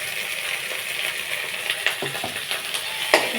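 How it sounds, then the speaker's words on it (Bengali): Spice paste with chili paste, salt and turmeric sizzles steadily in a pan, broken by a few sharp scrapes and clinks of a spoon stirring it, with no talking. "ভালো করে মশলাটা কষিয়ে নেব"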